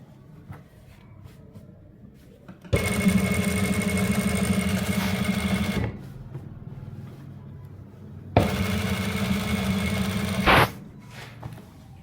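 A sewing machine stitches a trouser pocket onto the front panel in two loud, steady runs, the first about three seconds and the second about two, separated by a quiet pause with faint handling sounds.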